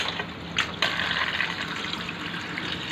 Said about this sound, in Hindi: देखिए पानी आ चुका है पंप में।